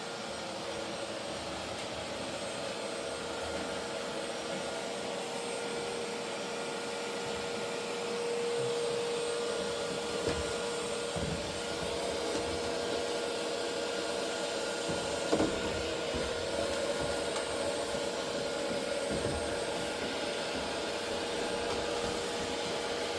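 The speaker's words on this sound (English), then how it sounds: "I'm gonna use my vacuum cleaner just to prevent spillovers from the dryer" Vacuum cleaner pulling lint out of a clothes dryer, a steady broadband whooshing roar that runs unbroken throughout, with occasional faint knocks as the nozzle bumps inside.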